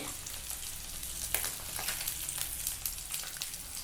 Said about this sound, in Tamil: மீன் வந்து எல்லா சைடும் நல்லா ஃப்ரை ஆகிடுச்சு.